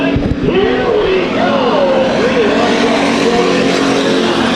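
Race cars roaring on the Bakersfield Speedway oval at a restart, a loud continuous engine drone with rising and falling pitch sweeps as cars accelerate past, with an announcer's voice faintly mixed in.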